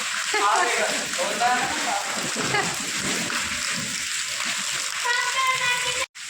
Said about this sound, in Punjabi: ਉਧਰੋਂ ਤਾਂ ਮੀਂਹ ਆਈ ਜਾਂਦਾ